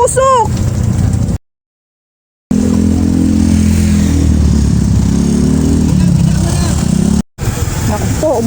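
A motorcycle engine runs steadily with a low rumbling drone on a trip to a fishing spot in Bulacan, broken by a short silent gap, with people talking over it.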